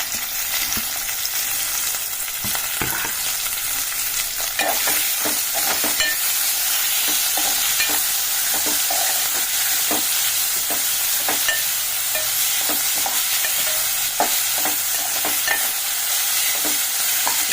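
Potato, onion and tomato sizzle steadily in a pan while a spoon stirs through them, with repeated scraping clicks over a dense, continuous frying hiss close by and no talking.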